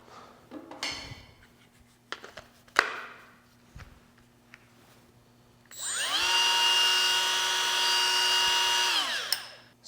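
A Hercules right angle die grinder spins up to its fastest setting with a rising whine, then holds a steady, bright, high-pitched buzz for several seconds before cutting off, following earlier scattered handling clicks and knocks in a quiet shop.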